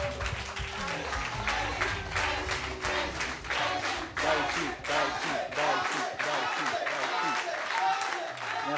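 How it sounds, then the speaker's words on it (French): Studio audience applauding loudly on a French-language television show, dense sustained clapping with rhythmic bursts running throughout, mixed with crowd voices and cheers. "On l'applaudit bien fort"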